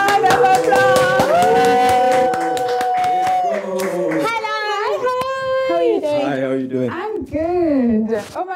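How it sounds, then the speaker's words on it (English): Studio audience at a South African talk show applauds and cheers as guests arrive, a sustained burst of clapping with excited voices and music over it, fading as people begin talking. "Ladies and gentlemen, let's give them a round of applause."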